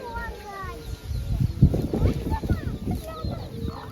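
Hens and a small chick cluck and chatter softly while people talk nearby at Taigan lion park, the bird calls scattered throughout.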